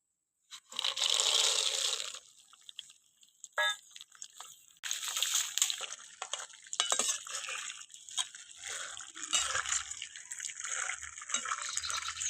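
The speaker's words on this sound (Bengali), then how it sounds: "ওই একই তেলে এবার বাদামগুলো ভেজে নেব" Peanuts fry in hot oil, the same oil used for frying sev, with a bright crackling sizzle that starts abruptly, dips briefly, then continues in uneven, spitting waves at moderate volume.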